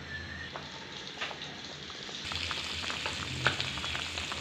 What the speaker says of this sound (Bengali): মাছগুলো ফুটে উঠেছে